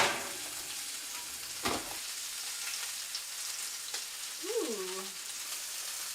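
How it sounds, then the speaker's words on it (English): Pork frying in a pan on the stove, a soft steady sizzle running throughout at low level, with a couple of brief clanks and a short spoken exclamation near the end. "I find the best way to fry meat is just don't mess around with it"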